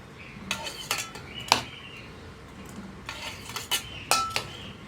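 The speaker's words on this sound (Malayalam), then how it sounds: "നമുക്ക് എത്ര കഷ്ണം പുട്ടായിട്ട് വേണം എന്നുള്ളതനുസരിച്ച് നമ്മൾ ആ ഡിവൈഡിങ് ഇട്ട് കൊടുക്കുക" A divider disc dropped into a puttu maker tube during puttu preparation: a few crisp metallic clinks and scrapes, close and bright, separated by brief quiet gaps, with no talk.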